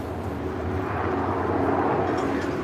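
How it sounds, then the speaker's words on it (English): Two helicopters fly overhead above a street demonstration at Los Angeles City Hall, a steady, distant rotor-and-engine drone rumbling continuously with no talk. "Here we go, helicopters are here too."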